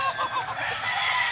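Chickens and a rooster on a poultry farm in the morning, a dense mix of clucking and crowing close by with no talk over it.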